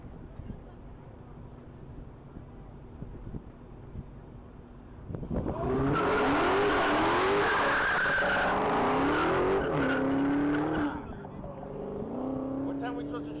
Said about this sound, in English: That's going to be a 2017 Dodge Charger SRT Hellcat. This is the first pass down the mile for this particular machine with this driver.